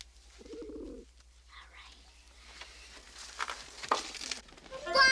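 Pigeon cooing in a period fantasy film scene, a soft low coo near the start followed by rustling and clattering that grows louder toward the end.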